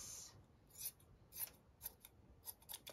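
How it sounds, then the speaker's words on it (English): Scissors snipping through a piece of cheesecloth in quiet, close crisp cuts, about six short snips spaced irregularly over a few seconds with faint rustling between them. "let's put some cheesecloth somewhere. So just cut a piece."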